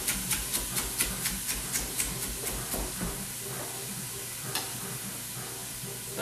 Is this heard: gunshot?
no